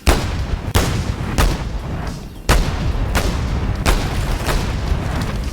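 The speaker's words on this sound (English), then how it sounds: "This is the heavy gun. So it doesn't need ammo." A heavy gun in the video game Boneworks fires repeatedly, about eight loud booming shots at an uneven pace, each with a reverberant tail running into the next; no talk.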